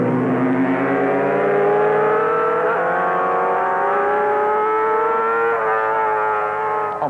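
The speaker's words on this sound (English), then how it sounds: "Behind McIntyre, Hailwood on his Honda 4 and Hocking on the lone MV Twin were battling wheel to wheel for second place" A Honda four and an MV twin racing motorcycle at the Isle of Man TT hold a loud, sustained high engine note that rises and shifts in pitch as they pass close by, with no voices.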